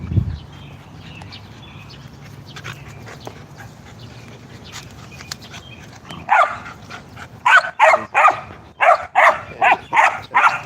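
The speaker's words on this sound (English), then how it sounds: "Leave that puppy alone." A puppy and other dogs at a wolf-dog kennel, with low whimpering and restless movement at first, then a loud run of sharp, close barks coming in quick bursts toward the end.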